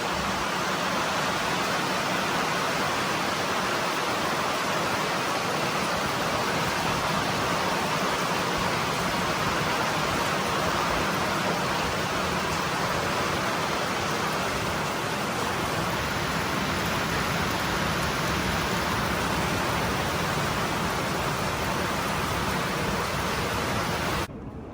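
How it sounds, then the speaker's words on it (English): Heavy rain pours down on a flooded farm, a dense unbroken hiss of falling water that stays loud and even for the whole stretch, with no voices. "That is some rain now."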